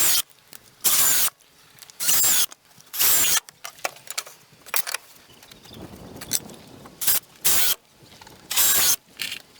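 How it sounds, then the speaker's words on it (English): A power drill driving screws at an angle into wooden sandbox boards, several loud whirring bursts about a second long separated by pauses and quieter handling noises, close by and without talk. "I'm driving the screws in at an angle"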